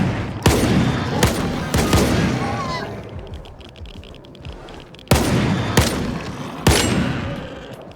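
Gunshots in Stalker 2 from a shotgun: six loud, booming blasts in two groups of three, each followed by a decaying echo, over a rumbling outdoor background.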